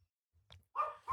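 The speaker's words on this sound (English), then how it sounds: "Pablo, who you barking at?" A dog lets out a short bark or yip, a single brief burst after a faint muffled sound, fairly close and standing alone in an otherwise quiet room.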